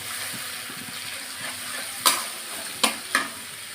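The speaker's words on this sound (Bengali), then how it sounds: "সামান্য একটু জল দিয়ে দিলাম মশলাটা সুন্দর করে কষানোর জন্য" Spice paste sizzles in a pan with a little added water, giving a steady close frying hiss broken by three sharp scraping strokes of a stirring spoon near the end.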